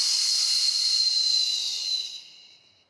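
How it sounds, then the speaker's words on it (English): A long, steady exhaled breath during a beginner Pilates stability ball exercise, airy and hissing, held for about two seconds before tapering away to silence. "And exhale."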